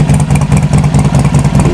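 A 2008–2012 Harley-Davidson XR1200 sport motorcycle engine runs with a loud, steady, throbbing low rumble and rhythmic pulsing, close by with no talk.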